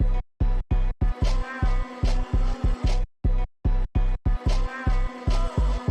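Dark Jersey club-style beat with choppy drums cutting in and out, a whip sound effect cracking each time the full groove returns after the chops; loud, stuttering, rhythmic pattern with no voices.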